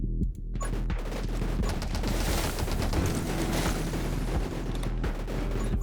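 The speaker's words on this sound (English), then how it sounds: "Just sit here and unload massive amounts of bullets at him." Rapid gunfire in the video game 20 Minutes Till Dawn, a loud, sustained stream of shots with booming impacts that barely pauses, alone without talk.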